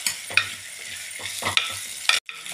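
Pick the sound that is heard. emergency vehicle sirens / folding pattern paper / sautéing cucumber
sautéing cucumber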